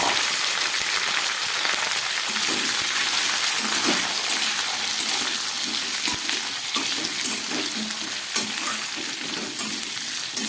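Pieces of pumpkin, papaya and potato fry in hot oil with a loud, continuous crackling sizzle, broken by scraping and stirring knocks throughout.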